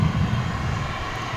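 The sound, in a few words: American Eagle jet arriving at DFW airport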